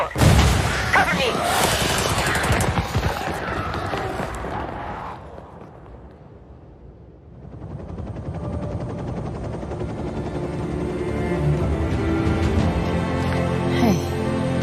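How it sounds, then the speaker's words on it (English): Door breach explosion and heavy gunfire in a Ubisoft military shooter game, dense sustained rattling bursts and booms, fading briefly before building again with continuous firing and a helicopter-like rumble under voices. "Nomad, blow the door. Cover me."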